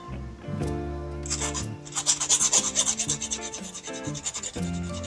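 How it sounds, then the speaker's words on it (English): A hand file rasps along a metal shaft to take off burrs, giving steady scraping strokes that grow rougher and more pronounced midway before easing off, close by. "So I'm just taking off a little file."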